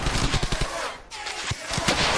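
Rapid bursts of machine gun fire from a World War II firefight in the video game Brothers in Arms: Hell's Highway, loud and dense with brief gaps.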